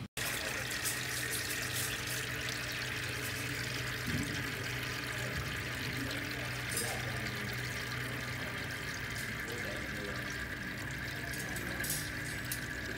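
Water runs steadily through the fountain built into a fairytale wedding cake, a continuous trickling and splashing flow that stays even and close throughout, with no talk.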